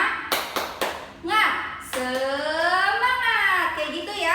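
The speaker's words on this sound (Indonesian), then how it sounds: "Tepuk semangat." A teacher leads a rhythmic class clap called tepuk semangat in an Indonesian fifth-grade lesson: a few sharp, close claps followed by her chanting voice.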